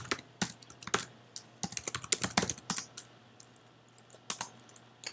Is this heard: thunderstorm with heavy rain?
no